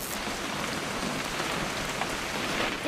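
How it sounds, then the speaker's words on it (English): Steady rain in What Remains of Edith Finch pours down as an even, dense hiss of drops on surfaces, close and constant throughout with no voices. "It's gonna rain the whole weekend, isn't it?"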